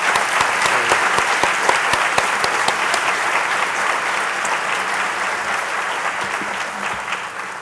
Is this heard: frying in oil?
no